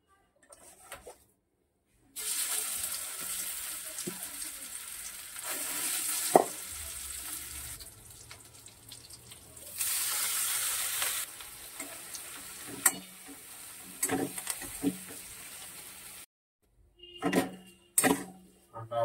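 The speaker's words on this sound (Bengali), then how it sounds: "এখানে কড়াই তেল দিয়ে দিয়েছি, এবার এই আলুটা একটু মশলাপাতি দিয়ে একটু নেড়ে নেব।" Mashed potato with spices being stirred and fried in oil in a wok, a steady sizzle with spatula scrapes and clinks, pausing briefly near the start and end, with no talk.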